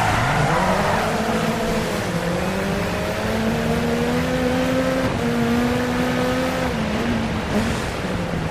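A Ford Focus RS RX rallycross car engine in the Dirt 4 racing game holds a loud, steady, revving drone, with pitch climbing and dropping at gear shifts about every two seconds. No voices are heard.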